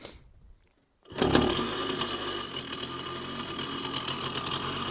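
Old Karpaty moped engine catching after a brief silence and settling into a steady, buzzy two-stroke idle with a fast uneven rattle, close and moderately loud, no talk.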